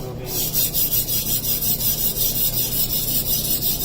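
A Masamoto Tsukiji kitchen knife is sharpened on a whetstone: close, rhythmic back-and-forth rasping strokes, about two per second, steady and moderately loud with a faint low hum underneath and no talking.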